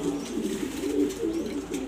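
Pigeons coo steadily in low, rolling murmurs, several birds close by with overlapping calls and no talking, at a loft in Mirpur, Dhaka.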